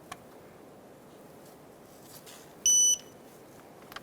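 A digital torque wrench gives a single short, clear electronic beep on reaching 16 foot-pounds while tightening thermostat housing bolts on a 2007-2012 Nissan Altima, in an otherwise quiet space.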